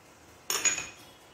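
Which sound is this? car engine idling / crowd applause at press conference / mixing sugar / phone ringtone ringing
mixing sugar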